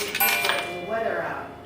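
A quarter drops into the coin chute of a vintage payphone, giving a bright metallic clink and a short rattling ring that fades, with someone talking close by.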